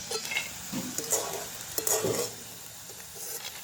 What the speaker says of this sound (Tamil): ஒரு கொஞ்சம் எண்ணெயிலேயே நாங்கள் பொரிச்சு எடுத்துடலாம்